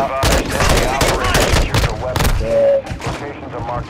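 Rapid bursts of gunfire in a video game on the Al Mazra map, dense repeated shots close and loud, with players talking over the shooting.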